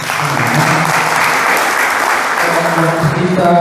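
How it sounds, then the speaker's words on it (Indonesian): Indoor audience applause at a church talk, a dense, steady wash of clapping that is loud and close and lasts throughout. "Ya, beri aplaus."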